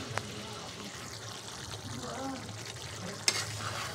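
Minced mutton sizzling and being stirred in a pan while rice and lentils cook nearby, a steady frying hiss with a few sharp spatula scrapes and clanks.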